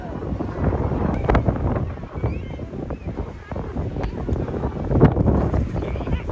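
Strong wind buffets the microphone outdoors during an evening game, producing rumbling, uneven gusts. Voices shout and talk over it.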